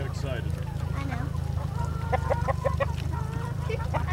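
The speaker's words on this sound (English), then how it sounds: "He's a pretty friendly rooster." Chickens and a rooster on a CSA farm give short clucking calls over a steady low rumble, with a person talking nearby.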